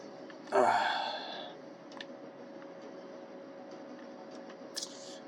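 A single close, breathy yawn swells and fades over about a second, then leaves a quiet steady room hum with faint clicks from a video game session.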